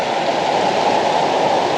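A waterfall in Colombia roars as a dense, steady rush of falling water, loud and constant throughout the short stretch, with no voices.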